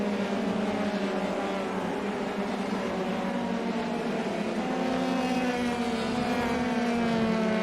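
F3 race car engines in an iRacing game drone loudly and steadily, their pitch sliding up and down as the cars accelerate through a corner, with no commentary heard.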